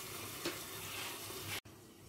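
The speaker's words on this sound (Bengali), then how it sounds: "টমেটো কুচিটা দিয়েও 1 মিনিট ঢাকা দিয়ে ভেজে নেব।" Chopped tomato fries with capsicum in a covered pan for a paneer dish, a soft, steady close sizzle that cuts off abruptly, then resumes more faintly.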